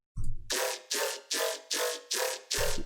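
Dry bass synth with no vocoder pulses in six even, gritty stabs, each a wide noisy burst over a low kick-like thump at the start and end, loud and alone.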